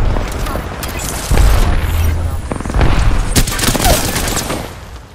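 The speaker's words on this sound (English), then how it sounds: "Throw my grenade out." Grenade blast in the video game Apex Legends on Kings Canyon, a loud boom with a low rumble, followed by bursts of gunfire and further impacts in a chaotic firefight.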